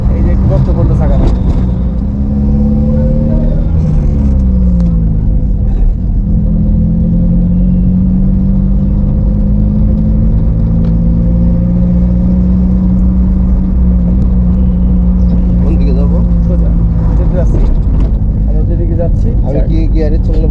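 A manual car engine idles and pulls along in second gear during a road test, a steady low drone with slowly shifting pitch running continuously beneath someone speaking throughout.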